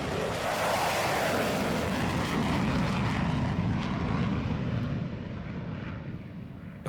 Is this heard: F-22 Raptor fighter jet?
yes